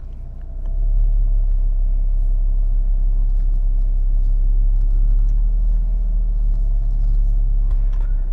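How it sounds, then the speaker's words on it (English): A 2026 Renault Duster with a 1.3-litre engine and manual gearbox drives on a city road, its steady deep rumble of engine and road noise rising after the first second and holding loud and even throughout. "we are test driving today the new Renault DUSTER"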